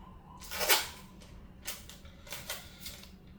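A pen or marker scratches out a label on a jar of homemade warm-method infused herbal oil, in a few short, close, scratchy strokes separated by pauses.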